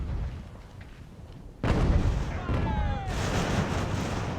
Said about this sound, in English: And the cannons are just keeping them at arm's length.